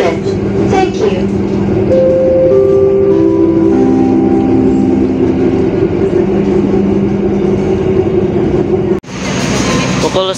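Argo Semeru passenger train rolling into Madiun station in Indonesia: a loud, steady rumble of wheels and carriages with drawn-out tonal squeals of braking, then a sudden cut to a noisier cabin sound near the end, with people talking faintly.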